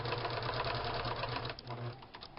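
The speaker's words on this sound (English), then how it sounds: "I'm going to sew, and I'm going to just back stitch a little bit" A sewing machine stitches a neck bag pouch with a fast, even mechanical chatter, close and steady, pausing briefly partway through before running again with a few short bursts.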